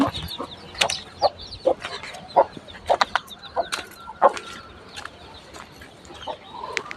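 Chickens clucking repeatedly in short bursts, with a few louder sharp calls, over a busy outdoor background.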